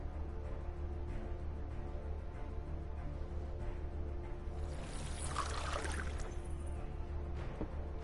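Magic water pouring in Final Fantasy 16, a faint, steady liquid flow that swells into a brighter splashing rush near the end of the passage.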